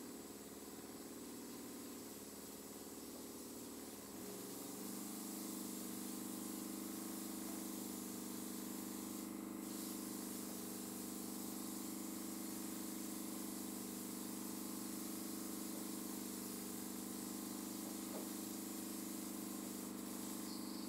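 Dinair airbrush spraying makeup foundation to blend it in, a faint, steady hiss with a constant compressor hum underneath that continues evenly for about twenty seconds.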